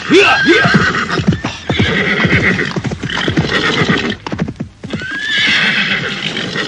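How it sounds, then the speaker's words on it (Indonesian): A horse gallops with rapid, loud hoofbeats and gives repeated, close neighs and whinnies, with no talking. "Kuda Narasinga menuju kemari."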